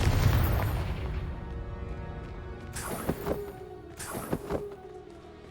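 Spell explosions from Confringo cast in the video game Hogwarts Legacy, a loud booming blast followed by a couple of sharp, cracking bursts a second apart, with rumbling decay between them.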